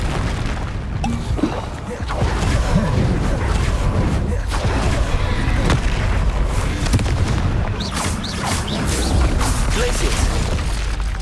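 Spell blasts and crashing impacts from Confringo casting in the video game Hogwarts Legacy, a busy run of booms and mechanical clatter throughout, loud and dense with game combat noise and a voice faintly mixed in.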